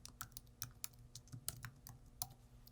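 Someone types a game name on a computer keyboard while publishing a Unity game. The keystrokes come as quick, uneven, close-up clicks in a soft burst, with no talking.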